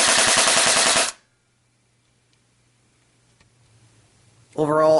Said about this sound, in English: this is a blowback gun, so each time you pull the trigger you're going to get that blowback feature engaging